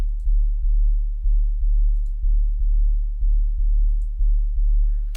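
A deep sub-bass sine wave with a saturation plugin applied, pulsing in steady repeated notes of roughly half a second each, loud and alone without any other sounds.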